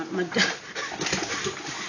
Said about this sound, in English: my dog just fell on her face